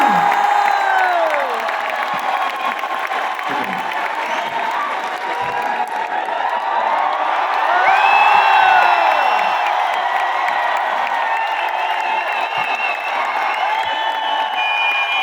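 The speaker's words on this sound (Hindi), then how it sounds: "मैं चाहूंगा एक बार जोरदार तालियां मिस्टर सोनू शर्मा" A large audience at a Vestige award function in Thyagraj Stadium bursts into loud, sustained applause and cheering for Mr. Sonu Sharma, with whoops and shouts rising over the clapping and swelling to a peak midway.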